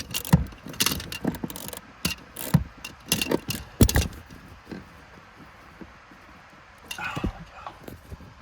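A hand ratchet clicks in quick bursts on rusted nuts while a 2007 Mazda 3 cabin air filter is being changed. Rapid close metallic clicking comes in clusters with pauses between them.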